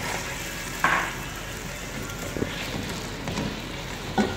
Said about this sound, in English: I'm gonna stir this for a few minutes, a few seconds actually.